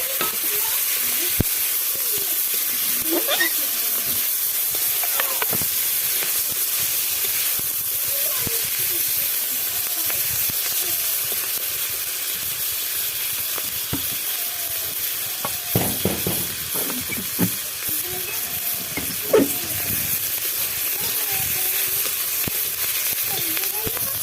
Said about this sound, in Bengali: ওর মধ্যে আর অল্প একটু তেল দিয়ে আমি ফোড়ন দেব। দেখো জিরে আর সর্ষে দিয়ে ফোড়ন দিলে না আলুর ডালটা খেতে অসাধারণ লাগে।